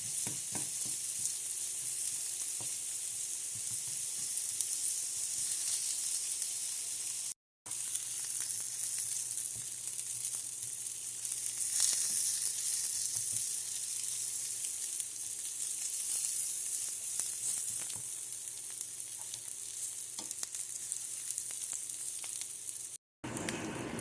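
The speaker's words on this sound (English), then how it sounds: "Now I'm going to go ahead and add in some onions and let those cook up." Onions cook in a hot pan for Beyond Meat cheeseburgers, giving off a steady, close, hissing sizzle that runs evenly throughout with only two brief dropouts.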